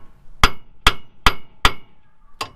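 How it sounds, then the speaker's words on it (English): Five sharp metallic hammer strikes ring out close by, hammering a ball joint out on a 1999-2004 Ford F250/350, four in a quick steady rhythm, then a short pause before the last one. "I use them to hammer them out"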